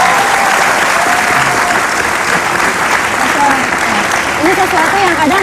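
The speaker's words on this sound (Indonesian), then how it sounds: "Tepuk tangan." Studio audience at an Indonesian television talk show clapping steadily and loudly, a dense continuous wash of applause with faint murmurs underneath.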